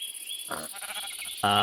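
Two short, nasal sheep bleats from Minecraft ring out over a faint electronic background hum.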